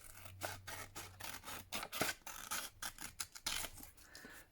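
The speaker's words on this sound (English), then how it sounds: "I'm just trimming around it" Scissors snipping paper while trimming around a tag pocket on a grungy junk-journal lapbook, a run of quick, close, irregular cuts and soft rustles at fairly low volume.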